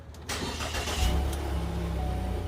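A car engine turns over and settles into a low steady running hum as the car starts to move, close by, with no talking.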